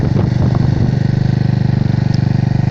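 GY6 193cc stroker scooter engine with a +4mm stroke and Taida 4-valve head running at first start-up, a loud, steady, rapid thrumming idle close by, alone.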